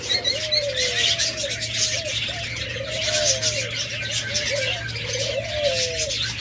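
A pet lovebird pair calls from close by, repeating short, gliding, sliding notes over a steady low electrical hum and a busy background of chatter.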